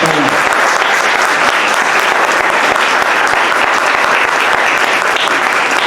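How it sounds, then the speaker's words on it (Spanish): Audience applause for a hospital team at a blood donation promotion session, loud and dense clapping from a crowd, sustained evenly throughout. "les pido a todos por favor que les demos un aplauso al equipo completo"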